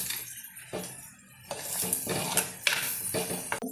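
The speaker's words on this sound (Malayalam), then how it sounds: "നന്നായിട്ട് നമുക്ക് ഇളക്കാം" Curry seasoned with Kashmiri chilli powder being stirred in a pot, a run of close scraping and clinking of a spoon against metal, moderately loud, with brief pauses and no speech.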